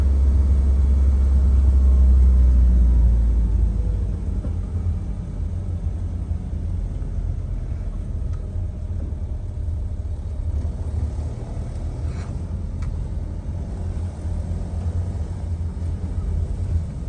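A camper van drives out of Langres, France, in winter, giving a low, continuous engine rumble and road noise, heavier for the first few seconds and then settling into a steady drone.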